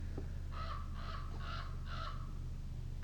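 A large bird, crow-like, calls outdoors with four harsh caws in a quick even series over a low steady background hum.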